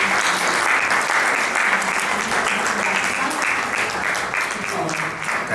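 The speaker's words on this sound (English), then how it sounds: "if we all can just give another big round of applause to you" Full, sustained audience applause closing a panel discussion at an international yoga summit, loud and dense at first and easing slightly toward the end.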